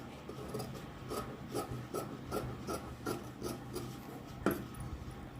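Scissors cutting blouse front fabric by hand along a drawn line, a steady series of soft rasping snips at an even rhythm, quiet and close.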